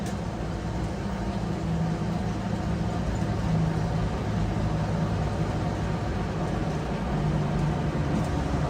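A 1977 Land Rover 101 Forward Control on the move, its engine a steady, loud, even rumble blended with broad road and wind roar, continuous throughout with no voices.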